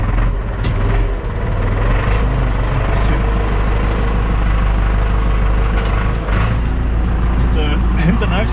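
A Deutz DX tractor rumbling at low revs as it crawls over a tree root on a forest logging track, a steady loud deep drone with occasional knocks and a voice speaking over it.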